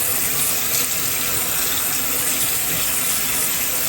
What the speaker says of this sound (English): And I'm just taking some hot water.